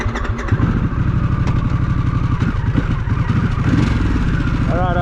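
A Harley-Davidson Pan America motorcycle rides off road, its engine pulsing loudly and close with a rough, steady rumble that rises in revs near the end, heard alone without talk.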